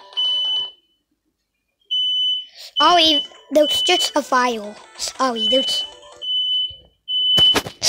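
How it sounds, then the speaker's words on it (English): Repeated high electronic beeps from a home smoke alarm sound in bursts, with a person talking between and over the beeps. "That was just the fire alarm"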